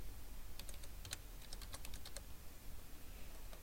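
Fingers tap a computer keyboard in quick, uneven bursts of light clicks with short pauses between them. The typing is close and clear over a low room hum, and nobody speaks.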